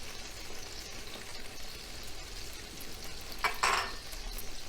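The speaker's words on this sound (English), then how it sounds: "now the tomato is nice saute" Tomato sautéing in a hot pan with hot pepper flakes for shrimp and arugula linguine, a continuous close sizzle with a brief burst of stirring scrape near the end, no voices.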